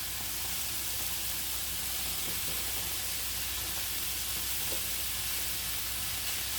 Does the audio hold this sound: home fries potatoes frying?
yes